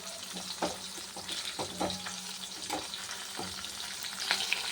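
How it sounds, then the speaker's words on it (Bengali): Hilsa fish and roe fry lightly in a pan, a continuous close sizzle punctuated by small pops and sputters of oil, with no voices. "বেশি ভাজবো না হালকাই ভাজবো"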